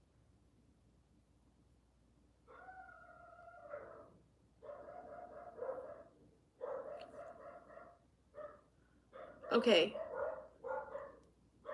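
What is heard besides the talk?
dogs barking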